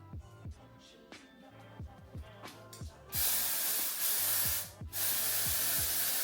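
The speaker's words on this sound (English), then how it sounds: "I am not afraid to spray, baby." A spray bottle mists hair in a gym, first with a run of short quick pumps, then two long sustained hissing sprays close to the microphone.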